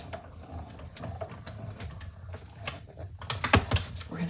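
Hand-cranked die-cutting machine pressing paper through its plates to cut gingerbread man shapes, giving a close, quiet run of uneven clicks and mechanical rattles that grow louder toward the end, with no talking.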